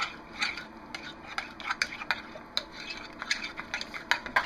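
Cold process soap batter with fragrance oil being stirred in a bowl, giving soft irregular scraping and clinking strokes of the utensil, close and fairly quiet, with no talking.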